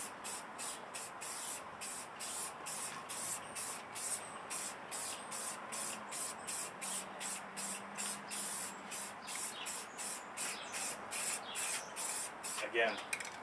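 A Canadian Tire Premier spray paint can sprays in short regular hissing bursts, close and fairly loud, with a faint rattle near the end and a voice speaking underneath.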